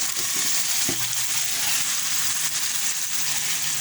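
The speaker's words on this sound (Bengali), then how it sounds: "এখন যেহেতু আমার তেলটা উপরে উঠে আসছে আমি মাছটা দিয়ে দেব" Boal fish frying in spiced masala oil, a continuous close sizzle and crackle with a few stirring clunks early on.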